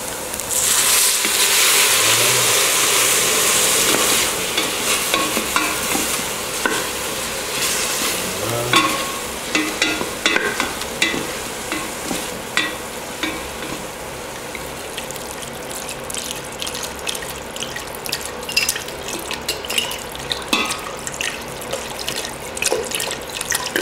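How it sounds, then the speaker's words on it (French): Water pouring into a pot of cooked onions to deglaze them for an oyster mushroom soup, a steady rushing pour with sizzling and stirring clatter throughout, fairly loud and close with no talk. "Là, on ajoute 2 litres d'eau, c'est ça hein? Voilà, on va déjà déglacer un peu les oignons."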